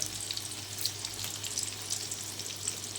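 Ingredients sauté in a pan on a quiet, steady sizzle with fine crackles and light pops throughout, heard close and alone.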